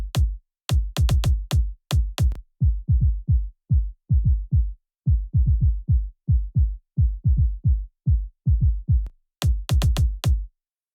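A thumpy kick drum with no high end and its low end summed to mono, heard alone as a steady run of dull, rounded hits in quick groups with brief gaps between.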